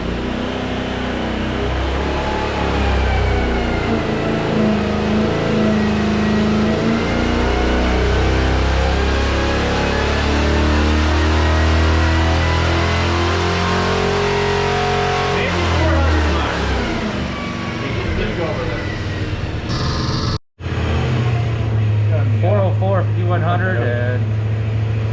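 A Chevy 454 with a small hydraulic roller cam revs hard on a dyno pull, its engine note sweeping upward for about seventeen seconds before cutting off abruptly, then settling to a lower idle rumble.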